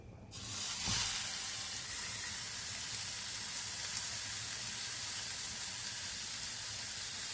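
A burger patty sizzles steadily in a hot pan, a loud, continuous frying hiss that starts abruptly and holds evenly throughout with no talking.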